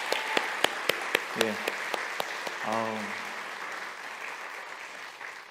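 A church congregation at a Sunday service claps in thanks for the children, staff and volunteers, a loose round of applause with a few sharper claps up front that fades over several seconds, with a voice speaking briefly over it.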